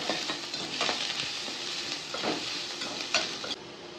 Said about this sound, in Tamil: இப்போ கட் பண்ண வெங்காயத்தை சேர்த்துக்கிறேன்